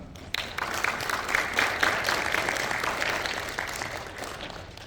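An audience applauds to welcome lawyer Kim Eun-ju as she takes the stage for a lecture on understanding local housing associations; steady, dense clapping fills the hall at moderate volume, starting abruptly and holding throughout.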